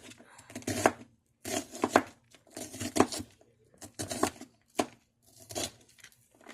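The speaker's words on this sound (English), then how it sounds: "Cut your onion as big as small as you guys like" A knife chops onion on a cutting board in quick bursts of close, crisp cuts, separated by short pauses, with no talking.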